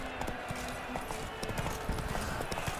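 Hooves of Geralt's horse Roach in The Witcher 3 beat a quick, steady clip-clop rhythm up close, with faint game sound underneath.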